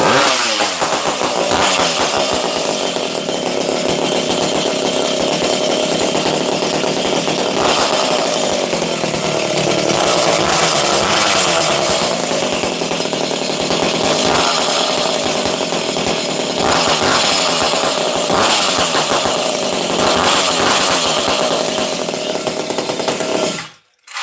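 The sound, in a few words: Buchan's 850 chainsaw being started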